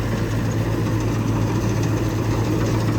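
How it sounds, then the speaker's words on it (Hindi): A Mahindra tractor with a 60 HP engine and D20 gearbox drives a reaper, its engine running steadily at idle with a loud, continuous low rumble and no breaks throughout. "तो ये चल रहा है आपका रीपर।"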